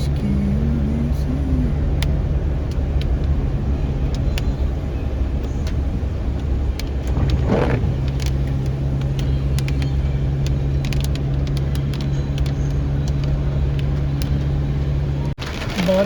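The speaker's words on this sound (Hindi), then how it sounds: "बारिश फिर तेज़ हो चुकी है जी और ट्रैफिक जो है वो आगे बिल्कुल ही जैम नज़र आ रही है." Cars idle and creep through jammed traffic in heavy rain in the UAE, a steady close engine drone from inside a vehicle with a brief swell of passing noise midway, constant and fairly loud throughout.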